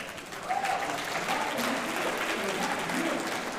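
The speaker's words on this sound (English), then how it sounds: "hearing so much applause" A town hall crowd in Humble applauds steadily for several seconds, a dense, even patter of many hands clapping, fairly loud, with a faint voice underneath.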